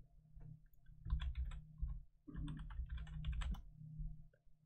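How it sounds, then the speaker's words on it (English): Rapid bursts of typing on a computer keyboard, clicking keys in two clusters separated by a short pause, close and moderately quiet with no talking. "I guess we can just type that in."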